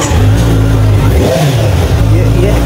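A Kawasaki Z900 sports motorcycle engine runs loud and close, holding a steady rumbling idle with some uneven revving throughout.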